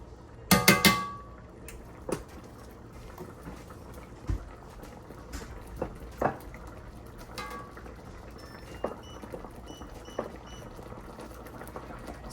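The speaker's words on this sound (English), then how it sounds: "Now let's put all of this cube steak back in this pan." Browned cube steak is put back into a pan: a short burst of clattering contact at the start, then quiet simmering and soft scattered clinks and taps from the pan at close range.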